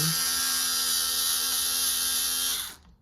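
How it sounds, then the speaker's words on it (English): A small Skil electric screwdriver backs a screw out of a doorknob latch plate, giving a steady, close, high-pitched motor whine that holds for nearly three seconds and then stops abruptly. "I'm going to take my little skill screwdriver and take out the screw"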